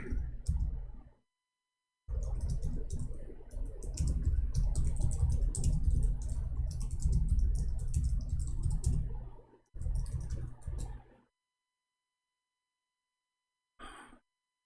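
Someone types on a computer keyboard close by, with dense runs of key clicks in several bursts separated by pauses.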